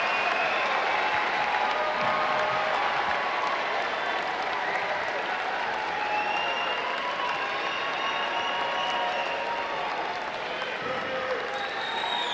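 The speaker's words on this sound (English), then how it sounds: "Turn and face all of those who have supported you through your journey to tonight's graduation and give them a round of applause" Large audience at a Syosset High School graduation ceremony at Hofstra University applauding parents, friends and family, a thick roaring wall of clapping and cheering that holds loud and steady for the whole stretch.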